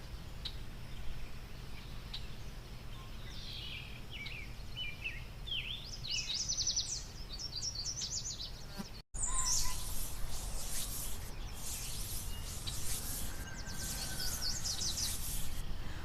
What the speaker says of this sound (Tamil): ஒரு சிட்டுக்குருவி அங்க வந்து அங்கும் இங்கும் போனுச்சு